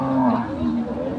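A dairy cow at the Ambari cattle market gives a single drawn-out, close, loud moo that holds steady.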